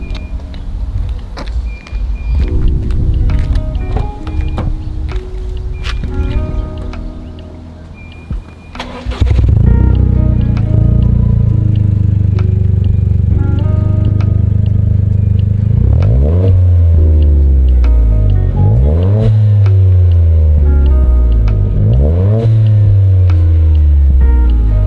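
A warm Toyota GR Yaris fitted with a Lamspeed exhaust starts midway after some clatter, catching with a loud burst, then settles into a steady idle broken by several sharp throttle blips, close and loud.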